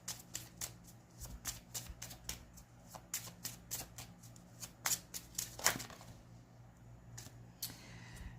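A deck of tarot cards being shuffled close up, with a rapid run of crisp riffling snaps and flicks in an uneven rhythm, alone without talk.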